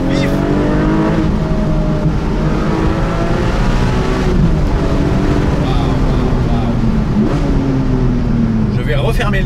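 Porsche 718 Boxster GTS with a 4.0-litre flat-six, revving hard under acceleration from an open-top cabin. The engine note rises and falls in sweeping harmonic climbs, loud and continuous, with road and wind noise and a voice talking over it.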